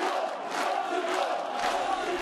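Large crowd gathered in Pale near Sarajevo to welcome Momcilo Krajisnik home, a dense continuous roar of many voices cheering and shouting, loud and close, with no single speaker.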